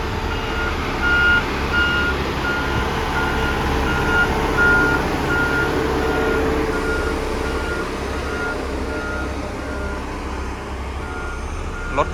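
An XCMG road roller working at a roadworks site, with a steady high reversing beep repeating at an even pace over a loud, constant diesel engine rumble, close by.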